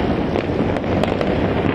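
Firecrackers burst all around on New Year's night, a dense, continuous crackle of overlapping pops and bangs from many directions, loud and without pause.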